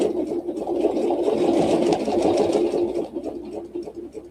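A sewing machine stitches a quilt panel along a ruler in a Baptist fan pattern, whirring steadily and close for about three seconds, then slowing into uneven stitches, with no talking.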